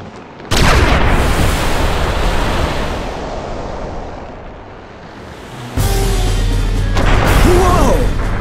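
Cannon fire in the Suikoden Tactics game, a sudden loud booming barrage with a rumbling roar that fades, then a second heavy blast burst near the end, all close and dense, without speech.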